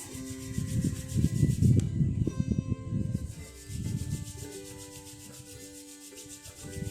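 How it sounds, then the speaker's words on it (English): Palms rub briskly together during a beginner morning yoga session, a close, dry swishing that is strongest in the first few seconds and then softer, set over gentle background music. "Now take both your hands towards your chest. Rub your hands."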